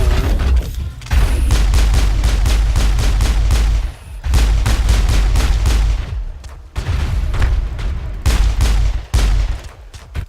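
Rapid sustained gunfire from a weapon in the video game Mass Effect, loud and close, rattling in long bursts broken by a few short pauses, with no talk over it.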